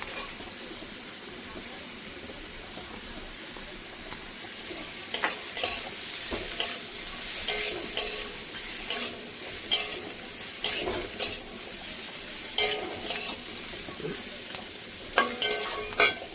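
Tomatoes and bitter gourd (karela) sizzle and fry in a pan while a spoon stirs them, giving a steady hiss broken by regular scraping, clinking strokes that grow more frequent toward the end.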